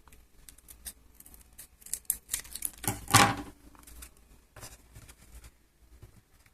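Scissors trim the leg of a paper action figure in a few close, small snips and crisp rustles, with one louder crinkle partway through.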